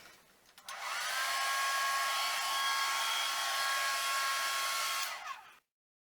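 A blow dryer roars at close range over a wet acrylic paint pour, a loud, steady rushing hiss that starts abruptly, holds for about four seconds and then cuts off into silence.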